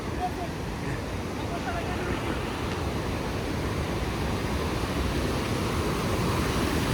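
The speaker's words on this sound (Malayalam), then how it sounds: "ഓ അവിടെ കേട്ടാ ആ വെള്ളച്ചാട്ടം, നമ്മളതിൻ്റെ ആ ടോപ്പ് ഏരിയയിലാണ് നിൽക്കണത്" A waterfall near Kanthalloor roars as a broad, steady rush of water heard from its top, loud and unbroken.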